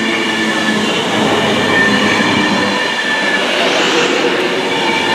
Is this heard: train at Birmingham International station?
yes